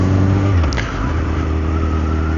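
A 2002–2003 Yamaha R1 5PW motorcycle riding at about 27 mph in third gear, a steady engine drone with a brief dip early on and a smooth continuous tone.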